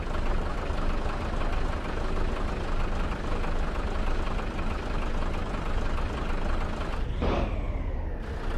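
An old truck's engine idles loudly in a trucking video game, a dense continuous rumble that holds steady for several seconds before a sharp hissing release near the end.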